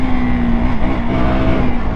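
A KTM RC motorcycle engine revs hard and accelerates, a loud, steady, close buzzing drone with a slight rise in pitch and no voices over it.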